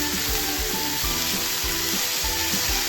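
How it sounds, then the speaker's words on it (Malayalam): Chopped plantain stem stirred in a hot pan for a Kerala thoran, giving a steady close sizzle and frying hiss with regular scraping stir strokes about every half second, with no talk. "നമ്മൾ അരിഞ്ഞ് ഊറ്റി വെച്ചിരിക്കുന്ന വാഴക്കൊമ്പ് ചേർത്ത് കൊടുക്കുകയാണ് ഒന്ന് ഇളക്കിക്കൊടുക്കാം"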